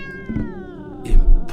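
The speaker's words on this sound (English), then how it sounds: "It was a black, one-eyed cat." A black, one-eyed cat lets out a clear, close meow, a short wavering cry followed by a couple of brief rustling thumps.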